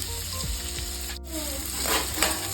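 Chopped onion and crushed garlic frying in hot oil in a pot, a close, steady sizzle with a short stirring scrape and a brief gap midway, no voices.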